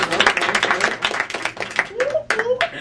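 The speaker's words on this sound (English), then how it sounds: "Round of applause to you" Audience applause at a comedy roast: a burst of clapping mixed with voices and cheering, fairly close and lively, with a few clap-heavy swells through the crowd noise.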